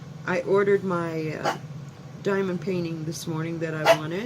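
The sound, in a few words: dog barking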